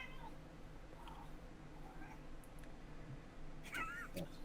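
A cat meowing close to a microphone during an online voice-chat tabletop game session: faint, thin mews that rise near the end over a low background hum, with no speech.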